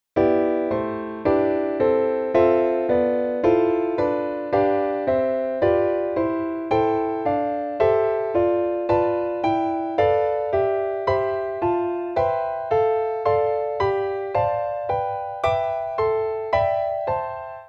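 A piano plays a Barry Harris sixth diminished scale in long-short voicings, an even string of about two dozen block chords, each struck clearly and left to decay, with a steady melody line over a bass part, played alone.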